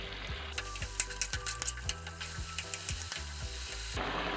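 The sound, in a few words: chicken frying in a pan over medium-high flame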